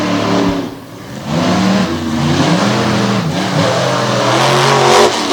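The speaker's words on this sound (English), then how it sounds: "Round number 1 of side-by-side monster truck racing." Monster trucks racing side by side on a treacherous dirt track, their engines revving loudly and continuously with rising and falling roars throughout.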